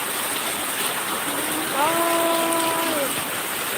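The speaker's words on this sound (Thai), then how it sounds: "อุบลฝนตกหนักมากเลยค่ะ" Heavy rain falls in Ubon, Thailand, a dense steady hiss throughout, with a voice briefly speaking over it.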